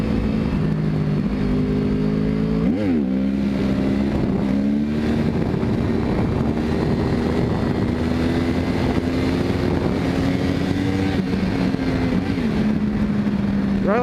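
A 600cc sportbike engine revs hard and steadily while pulling a wheelie, a loud close drone that swoops in pitch a few times as the throttle and clutch change.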